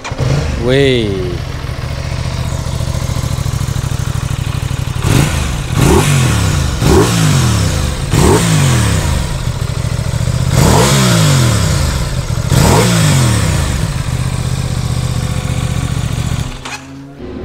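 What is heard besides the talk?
660 cc two-cylinder motorcycle engine starting and revving, 270-degree firing order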